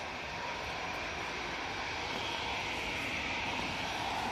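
An airliner at Manchester Airport roars in reverse thrust after landing, a steady broadband jet rush that holds loud and unbroken throughout, with no voices.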